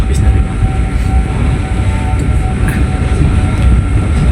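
The Cikuray passenger train rumbles low and continuously at a Jakarta railway station, with faint tonal hums, clattering noise and some background voices.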